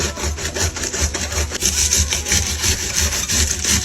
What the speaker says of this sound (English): Let's cut around the core of that.